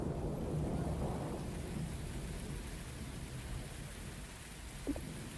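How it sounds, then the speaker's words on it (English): A video game thunderstorm after a colony shield failure: heavy rain roars continuously, and a deep rumble of thunder swells early, then fades under the downpour, with no voices. "It's raining cats and dogs."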